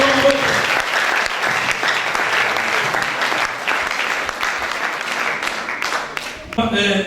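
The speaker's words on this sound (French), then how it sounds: "Acclamons le Seigneur." Sustained applause from a congregation during a French-language church worship service, dense steady clapping that fades near the end as a voice speaks over it.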